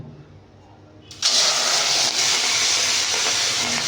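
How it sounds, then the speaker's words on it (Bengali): Shrimp dropped into hot oil in a wok burst into a loud, sudden sizzle after a quiet second, then a steady close frying hiss continues without letup. "এবার এতে চিংড়ি মাছগুলোকে ভেজে নেব।"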